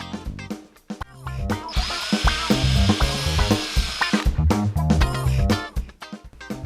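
A power drill whirs steadily for several seconds, rising and falling with load, driving a countersunk screw into wood to attach feet to a sprinkler valve cover frame, with brief knocks before and after.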